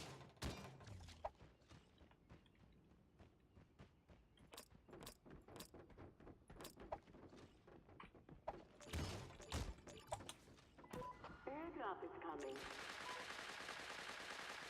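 Rapid bursts of gunfire from the shooter game Creative Destruction crackle through the match, with dense volleys, scattered single shots and thumps, followed by a steady hiss near the end.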